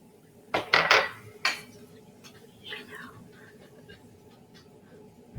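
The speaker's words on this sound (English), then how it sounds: "we're going to go ahead and add our flour and just kind of create a little roux from the olive oil that we started with" A utensil scrapes and clatters against a pot several times in quick succession as flour is stirred into vegetables sautéed in olive oil, followed by quieter, softer stirring sounds.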